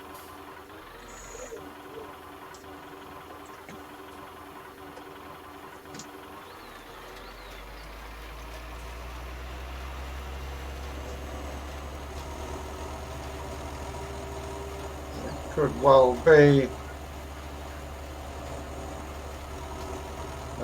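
An old farm tractor engine idles with a low, steady rumble during drilling work in 1961, faint and constant, joined near the end by a brief louder rattle, with someone talking quietly over it.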